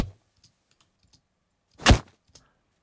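Punch knuckle impact sound effects from a sound design library: one sharp, heavy hit stands out near the middle, with faint clicks before and a small tap after, otherwise quiet.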